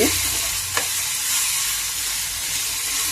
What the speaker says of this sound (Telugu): ఒకసారి చూద్దామండి మామిడికాయ ముక్కలు ఎలా మగ్గుతున్నాయో.